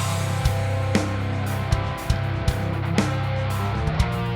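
A heavy, steady heavy metal instrumental track without mastering plays with a droning low riff and sharp snare hits every half second, no vocals.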